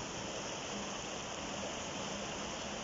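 Floodwater rushes steadily over eroding ground, a dense, unbroken roar of flowing water that stays constant and fairly distant throughout.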